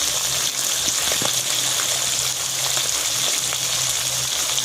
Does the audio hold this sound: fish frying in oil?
yes